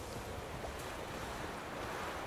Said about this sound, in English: Look how windy it's getting.